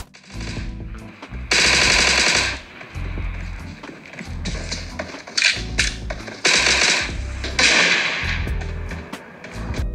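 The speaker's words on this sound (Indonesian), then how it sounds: "kita bakal tetap tahu dari arah mana suara step dan tembakan musuh berasal" Enemy gunfire in PUBG Mobile, played on an iPhone XR, rattles in loud, rapid automatic bursts separated by brief pauses, with clattering impacts between the volleys.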